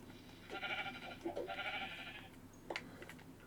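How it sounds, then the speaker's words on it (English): A sheep in Minecraft gives two wavering bleats in quick succession, followed by a short clicky game sound, fairly quiet, with no talking. "There's a sheep right there."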